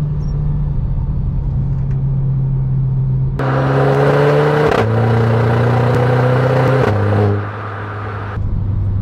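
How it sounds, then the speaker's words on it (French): Renault Clio 4 RS Trophy with 220 horsepower pulls hard under acceleration, its engine note rising in steady stages and dropping abruptly at each of two gear shifts, loud and close with no voices. "j'adore franchement cette sonorité au passage de rapport"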